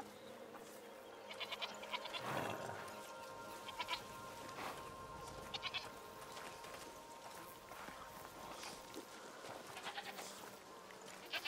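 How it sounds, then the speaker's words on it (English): Goats bleat in the video game A Plague Tale: Requiem, with several short bleats scattered through a quiet, steady outdoor ambience. Soft footfalls and rustling sit faintly in the background, with no talk. "Goats. Lovely."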